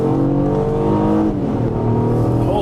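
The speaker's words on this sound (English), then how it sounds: "Holy cow, sounds like a sports car." An Acura car engine revving in Sport Plus mode on a dealership test drive, a loud steady drone that rises in pitch as the revs climb and then drops and climbs again with a shift.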